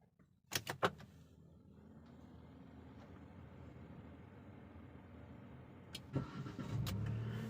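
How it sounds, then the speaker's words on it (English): A Proton Saga MC2 car is restarted: door and cabin clunks come first, then a steady low engine idle hums throughout, and a few more knocks and a rising rumble follow near the end. "I'm gonna restart the car."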